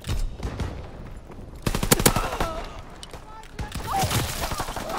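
Call of Duty WWII gunfire in a firefight around a building, with repeated loud machine-gun bursts in two clusters separated by quieter gaps, close and sharp, with someone talking and shouting over the shots.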